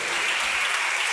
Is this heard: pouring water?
no